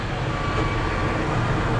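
A tractor engine, just started for fall tillage, idles to warm up, giving a steady, close, unbroken low rumbling drone with no talk.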